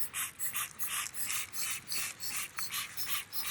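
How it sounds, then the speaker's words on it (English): A dusty Surron electric bike being hand-scrubbed, with a brisk, regular back-and-forth scrubbing rasp repeating about three times a second, close and fairly quiet, with no voices. "I'm just going to give it a scrub and a clean."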